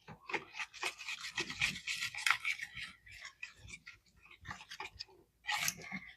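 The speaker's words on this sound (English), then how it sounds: "Break up these 2 eggs," Two eggs being whisked in a bowl until smooth, producing quick, close scraping and clicking strokes in bursts, with a short pause before a final flurry.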